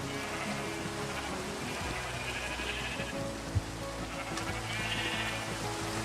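Sheep bleating in a video game, a few soft bleats over a steady patter of rain, faint and distant, with one brief thud.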